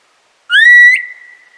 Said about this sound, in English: I'm going to get a high whistle.